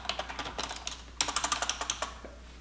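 Computer keyboard keys clatter in quick, uneven bursts as an email is typed, close and fairly quiet with a short pause midway and no voices.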